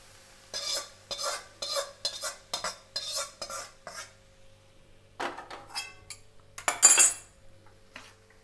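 Roasted flour mixture for churma ladoo being stirred with a metal spoon, a run of rhythmic scraping strokes against the pot, then a pause and a few louder clinks, close and without talk.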